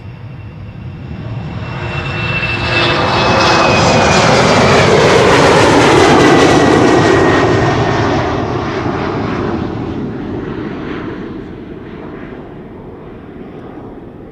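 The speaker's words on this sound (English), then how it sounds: "No, KLM 737 to Bergen up next." KLM Boeing 737 jet airliner at Schiphol Airport, a loud broadband engine roar swelling to a peak mid-pass with a whining tone, then fading slowly as it moves away.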